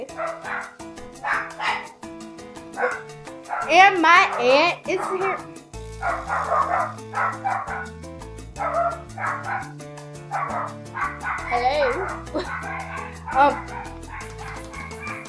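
A pet dog barks, yips and whimpers excitedly in repeated bursts close by, mixed with a person talking and a steady tonal background.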